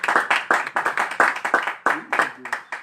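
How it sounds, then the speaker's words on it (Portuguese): A church congregation clapping hands in a brisk, regular rhythm, many claps in quick succession, with voices singing or calling out underneath. "Então bate palmas bem alegre para Jesus"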